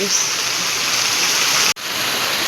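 Heavy rain that started suddenly at night pours down in a steady, dense hiss, close and loud, with one brief dropout partway through.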